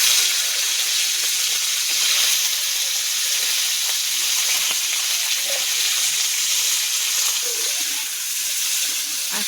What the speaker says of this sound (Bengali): এই তেলেই এখন আমি শিমগুলো দিয়ে দেবো।